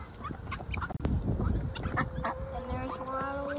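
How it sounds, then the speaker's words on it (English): Chickens and ducks eating leftover spaghetti squash cluck and murmur close by amid rustling and pecking noises, with occasional higher calls from other fowl mixed in. "chickens and ducks are eating leftover spaghetti squash and they're loving it"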